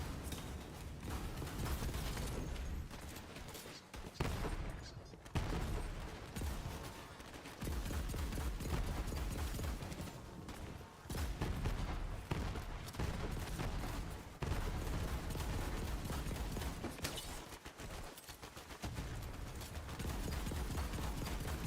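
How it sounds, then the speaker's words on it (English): Rapid bursts of Vladoff gunfire in Borderlands 3, fast automatic volleys broken by short pauses, loud and dense throughout with no talk. "Dude, firing this gun feels terrible. It like recoils completely sideways."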